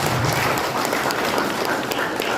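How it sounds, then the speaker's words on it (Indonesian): A church congregation applauding at a worship service: dense, steady wash of many hands clapping throughout, filling the space at even loudness with no pauses. "Berikan tepuk tangan bagi Tuhan Yesus"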